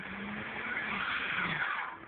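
SUVs struggling up a snowy hill in a heavy snowstorm, tires spinning and whining steadily on the slick surface with engine strain, fairly close and continuous.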